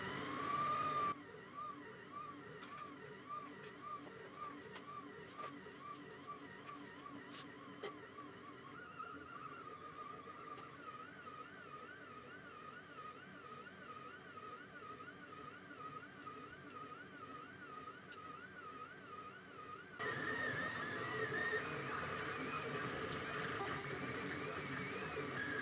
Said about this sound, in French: Vous pouvez l'entendre, l'imprimante est très silencieuse.